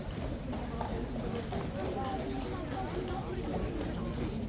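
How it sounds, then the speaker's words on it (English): Two large police horses walk back in, hooves clip-clopping at an event amid crowd noise, with a steady busy background and someone talking over it. "Okay, so those two massive horses are going back in and they are done for the day."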